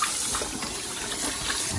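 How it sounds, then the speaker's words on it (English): Running water pours steadily from a tap as meat for ribs is washed under it, a continuous close splashing rush. "Guys, it's important to wash your meat."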